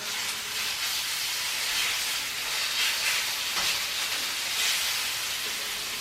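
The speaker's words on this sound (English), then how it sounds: "Really, you want a good sizzle on that." Steady crackling sizzle of pork chops frying in a hot pan, continuous and fairly close, with no voices.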